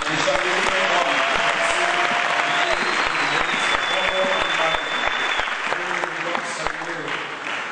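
A church congregation at a seminar closing applauds steadily, dense clapping from many hands filling the room for several seconds, with voices and shouts mixed in.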